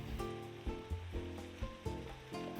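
Onion, carrot, red chili and green onion stir-fried in a pan alongside mushroom bulgogi, a steady broad sizzle with several soft thumps and scrapes of stirring, close and moderately loud, no voices.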